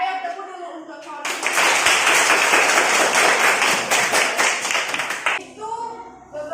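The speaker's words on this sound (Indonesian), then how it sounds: "Ayo tepuk dulu untuk kawan." A class of schoolchildren claps for a classmate in a sustained burst of fast, rhythmic clapping lasting about four seconds, with a teacher's voice speaking before and after it.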